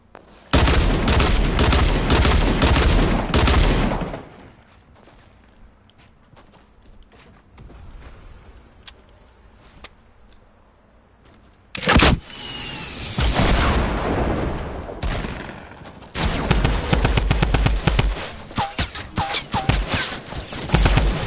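Video game gunfire crackles in dense bursts: a loud volley at the start, scattered quieter shots in the middle, then renewed heavy shooting toward the end.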